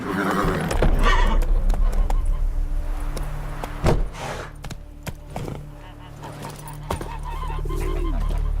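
A horse in the Witcher 3 game setting whinnies and breaks into a run, hoofbeats clopping loudly at first and then thinning out, with a brief thud midway and a low steady drone beneath.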